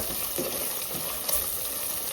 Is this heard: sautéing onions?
yes